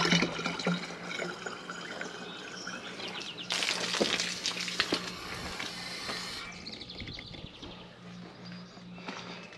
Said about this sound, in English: you fill the tank halfway full of water first.